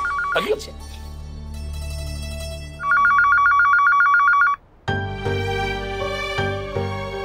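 A telephone rings unanswered in long repeated electronic trills, loud and close, with a brief gap before a different ringing tone continues.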